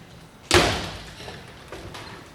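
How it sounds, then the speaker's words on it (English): A door slams hard in a house, one loud bang that rings and decays, followed by a couple of fainter knocks or thuds. "Nothing but slapping doors in this house."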